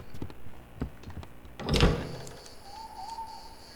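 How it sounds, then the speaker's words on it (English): In the horror game Static Dread, a few dull knocks thud against a door, followed by a heavier bang and a faint lingering tone, close and fairly loud over a quiet ambient background. "Someone's knocking at my door, okay."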